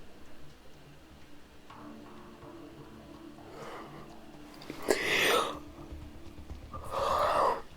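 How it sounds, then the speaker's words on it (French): A person yawns aloud, with a brief breathy gasp followed by a longer drawn-out exhalation near the end, close and moderately loud over a quiet background. "Le bâillement il est sorti quoi."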